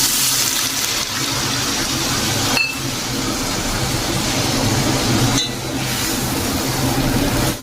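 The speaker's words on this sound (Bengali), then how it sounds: "অ্যাড করব জল দিয়ে দেবো" Water gushes steadily into a pan of cooking taro stolons, a loud continuous pour with two brief breaks as the flow is interrupted, and no voices.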